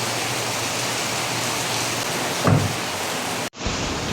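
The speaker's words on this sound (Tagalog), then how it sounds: "Yun guys, malakas pa rin ang ulan." Heavy rain pours steadily as a dense, constant hiss, with a brief louder splash midway and a sudden dropout near the end before the downpour resumes.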